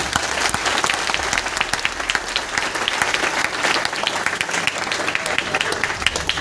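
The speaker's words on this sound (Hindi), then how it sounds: "मैं चाहता हूं ऐसी संस्था के लिए एक जोरदार ताली होनी चाहिए।" Audience at an event in Kanpur breaking into loud, sustained applause, dense clapping with sharp individual claps standing out, held at a steady level throughout.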